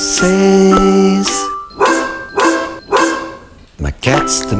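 A dog barks close and loud in a quick series of sharp woofs and yips, one after another, with no one talking over them.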